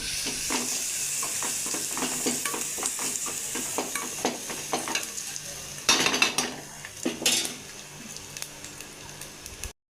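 Spices and turmeric for rasam sizzle and crackle in a hot pan while a spoon stirs and scrapes repeatedly, metallic clinks scattered through the steady frying hiss.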